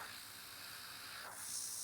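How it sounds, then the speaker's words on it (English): An airbrush sprays paint for air nail art, a faint, steady close hiss that brightens and grows slightly louder toward the end. "As you can see, I'm spraying only"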